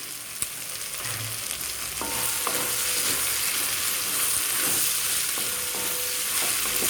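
Coriander seeds and cumin seeds frying in a pan give a steady, close sizzle throughout, broken by a few light clicks from stirring.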